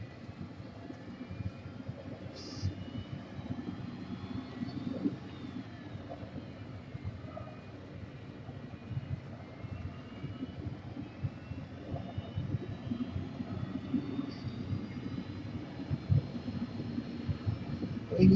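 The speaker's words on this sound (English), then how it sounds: "as we turn heading down the runway, we'll turn on the auto throttle and away we go" A simulated airliner's engines drone steadily through a takeoff roll down the runway, a continuous low rumble with a faint rising whine, alone and without talk.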